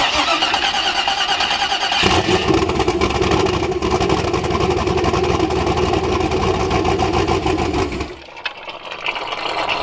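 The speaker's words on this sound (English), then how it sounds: "when he cranks this thing over, it'll actually idle." A turbocharged BMW E36 engine cranks over with a steady, loud whirring starter drone, then catches and settles into a rough, uneven idle with no talk.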